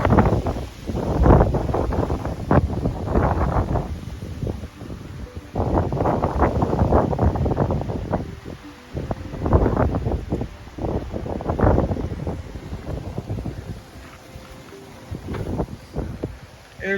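Strong wind blows outdoors in gusts, buffeting the microphone with loud, roaring surges that rise and fall in irregular waves over the whole stretch, with no talking.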